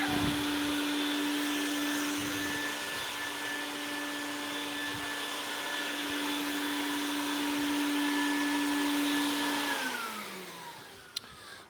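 A vacuum pump runs for vacuum forming clear plastic lenses, a loud, steady whine and rushing drone that holds for about ten seconds, then winds down with a falling pitch.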